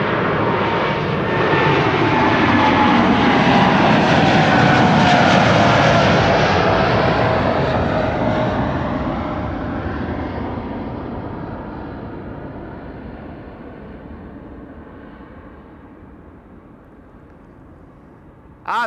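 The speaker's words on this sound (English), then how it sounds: "This is KLM Flight 605 to San Francisco. Lovely Dreamliner" A KLM Boeing 787 Dreamliner departing Amsterdam Schiphol's Kaagbaan runway 24 for San Francisco roars loudly with a whining engine tone, building to a peak, then fading gradually into the distance.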